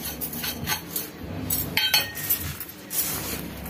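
Batter for Maddur vada, with salt, sesame and asafoetida, stirred in a bowl: light clinks and scraping taps of a utensil against the bowl in an irregular rhythm, close and moderately quiet.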